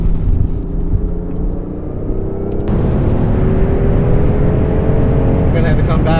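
A BMW i8 Roadster lapping Pocono on a damp track, not at full throttle: steady close engine drone and road rumble that steps up midway into a louder whirring cruise, with tire and wind noise throughout.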